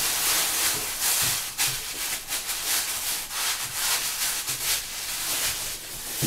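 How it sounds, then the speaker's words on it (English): Damp lump of clay rubbed, slapped and pressed by hand into a square block on a pottery bench, a steady close scraping and rubbing with soft thuds, no talk. "You get your lump of clay and you form it into a nice square block like that, you see?"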